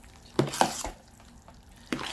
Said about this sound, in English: So I'm gonna go ahead and stir this up